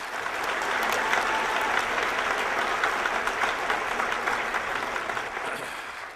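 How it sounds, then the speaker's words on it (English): A large audience gives Ron Paul a sustained round of applause, a thick, even wash of clapping that fills the whole stretch and tapers slightly at the end. "Another round of applause for Ron."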